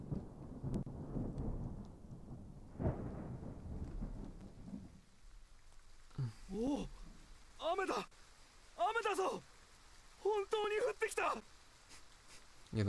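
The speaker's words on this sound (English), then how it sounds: "I don't know what good rain is gonna do for us" Rain from a spell cast in the tactical game Triangle Strategy, a rushing wash of rainfall with thunder-like rumble over the first five seconds, followed by voices talking.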